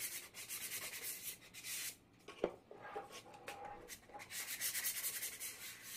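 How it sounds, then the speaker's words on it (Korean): Sandpaper rubbed lightly over an MDF candle warmer piece before painting, steady back-and-forth scratchy strokes at close range with a brief pause partway through. "바닥 부분도 사포를 해주세요."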